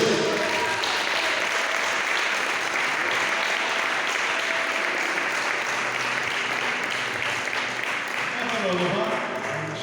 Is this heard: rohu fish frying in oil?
no